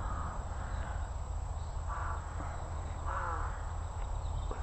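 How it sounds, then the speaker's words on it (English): Rooks and crows caw in the countryside, with a couple of harsh calls at moderate distance over a steady low hum and insect buzz. "We've got lots of rooks and crows around as well."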